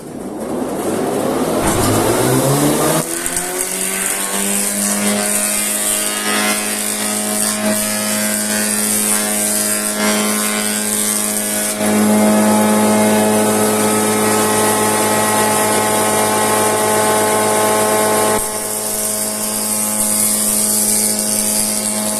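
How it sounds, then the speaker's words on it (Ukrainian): A wood planer machine planing a workpiece at an angle spins up with a rising whine and settles into a loud, steady mechanical hum with shifting tonal drone, running throughout. "беремо заготовку, починаємо стругання деталей в кут"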